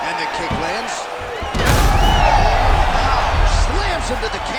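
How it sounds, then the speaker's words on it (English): An MMA fighter is slammed onto the canvas in a bout between two fighters, a sudden heavy impact that sets off a louder, sustained crowd roar. Commentators talk throughout. "Slams him to the canvas with authority."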